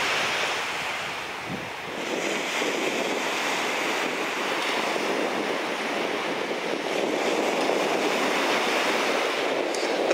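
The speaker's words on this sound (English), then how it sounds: "I'm not necessarily sure if this is typical waves, if these are calm waves, if these are terrible waves" Ocean surf washing onto a beach, a steady, continuous wash of calm waves with some wind noise, heard alone without talk.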